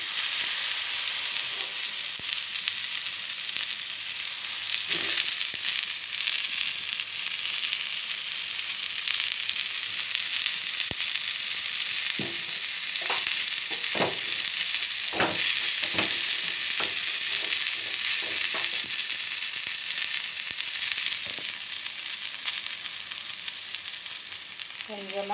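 Turkey berries (sundakkai) frying in a pan with oil, a steady close sizzle throughout with occasional sharper crackles and stirring clicks, no talking.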